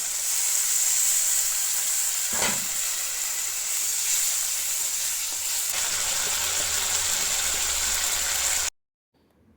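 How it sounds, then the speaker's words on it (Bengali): Water poured into a hot cooking pan with green chilli and ginger sets off a loud, steady hiss and sizzle that runs unbroken for several seconds and then cuts off abruptly. "এখানে দেবো জল।"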